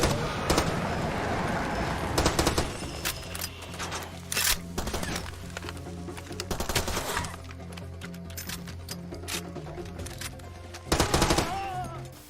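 Rifle gunfire from an AR-15-style gun in an older video game: loud bursts of rapid shots and single cracks in uneven clusters, with quieter gaps and a steady hum in between.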